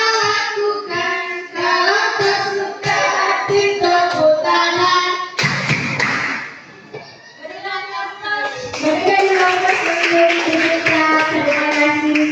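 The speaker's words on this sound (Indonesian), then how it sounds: "Kalau kau suka hati tepuk tangan." A group, apparently children with a teacher, sings a clapping song in a classroom, with bursts of rhythmic hand claps in steady beats alongside the singing, pausing midway before the claps and voices pick up again.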